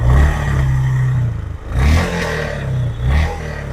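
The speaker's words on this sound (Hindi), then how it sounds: "कुछ इस तरह का एग्जॉस्ट नोट मिल जाता है।" A Honda CB350 Classic motorcycle exhaust rumbles close by at a steady idle, with several short throttle blips rising and falling over a few seconds.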